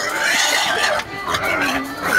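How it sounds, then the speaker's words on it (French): An agitated pig grunts and squeals in an outdoor pen, its harsh calls running continuously and fairly close, with faint voices in the background. "apparemment, il a l'air vénère, le cochon"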